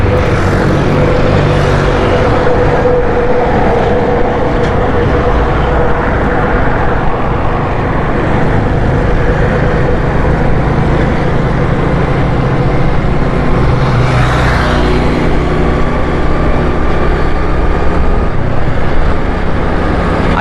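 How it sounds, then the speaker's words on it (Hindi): Steady traffic crosses Jam Sadiq bridge on the Malir Expressway in Karachi, a continuous loud rumble of passing vehicles with no breaks throughout. "ये जाम सादिक ब्रिज है और ये आपको मलीर एक्सप्रेस वे नज़र आ रहा है।"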